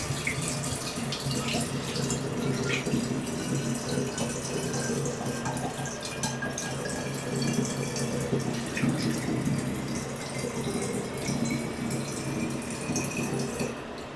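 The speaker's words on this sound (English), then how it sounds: "I'm going to pour that water into that container." Warm water pours steadily into a container while dry C-41 film-developing chemicals are being mixed. It is a continuous, even splashing stream lasting about fourteen seconds, with no talk over it.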